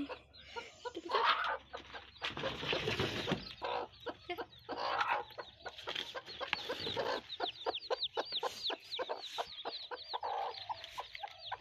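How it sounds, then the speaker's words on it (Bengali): Several hens with newly hatched chicks cluck and chatter close by in quick, overlapping bursts, with a busy farmyard hubbub continuing throughout. "এই যে মুরগি"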